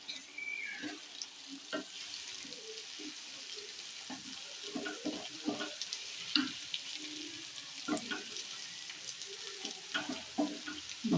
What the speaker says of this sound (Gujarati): ડુંગળીને ચડાવવા થોડું મીઠું નાખશું આપણે, બધાને મિક્સ કરી નાખશું